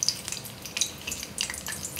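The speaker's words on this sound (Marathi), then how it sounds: "प्रथम आपण कढीपत्ता फोडणीला घालूया।" Curry leaves crackle and sputter in two spoons of hot oil for a Maharashtrian tempering, giving irregular bright pops and spits over a low simmering hiss, fairly quiet and close, with no talk.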